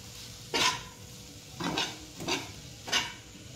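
Fried rice with egg is stirred in a pan: four distinct scraping, spatula strokes land roughly every half second to a second over a faint background sizzle.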